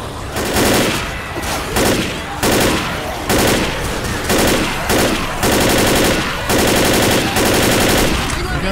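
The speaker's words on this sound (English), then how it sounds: "You guys can shoot him on the other side of the fence" Rapid automatic gunfire in the zombie shooter Left 4 Dead, fired in loud, repeated bursts with short pauses between them, close and dominant throughout.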